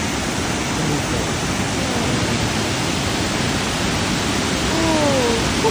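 The Englishman River Falls waterfall roars as a loud, constant broadband rush of water filling everything, with a faint voice briefly rising over it near the end.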